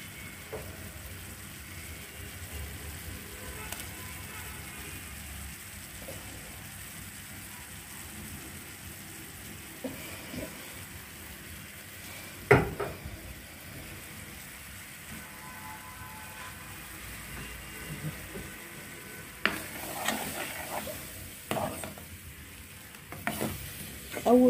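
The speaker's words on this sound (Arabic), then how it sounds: "حمرنا السوداني مع الدقيق مع نص كوبايه الزيت ونزلنا بقى عليهم بالايه" Sesame seeds, peanuts and flour frying in oil with honey, a soft, steady sizzle and crackle that runs throughout, with occasional louder stirring knocks and scrapes that grow more frequent toward the end.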